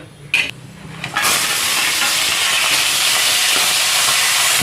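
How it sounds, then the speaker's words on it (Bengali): A fish head dropped into hot oil in a wok, a brief clatter followed by a loud, steady, close sizzling hiss that continues without letup. "কড়াইয়ে তেল দিয়ে দিয়েছি গরম হয়ে গেছে এবার মাছের মাথাটা দিয়ে দেব"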